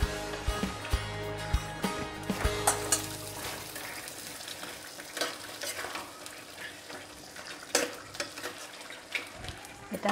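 Mutton pieces for a Chittagong-style kala bhuna tipped into a hot pan, giving a steady close sizzle and frying hiss with scattered clinks of stirring and utensils against the pan.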